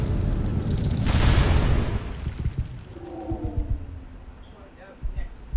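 A deep, loud explosion booms in the video game Tales of the Neon Sea, a broad rumbling blast followed by scattered crackling debris and smaller pops as it dies away.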